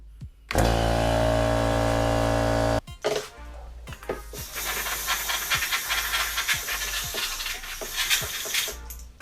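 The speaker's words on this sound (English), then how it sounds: "I used the compressor to blow out the shavings" An air compressor nozzle blasts loud, steady hissing air for about two seconds to clear plastic shavings from a drilled camera case. Softer bursts and rustling handling noise follow.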